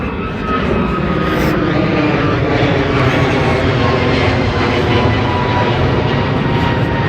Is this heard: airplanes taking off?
yes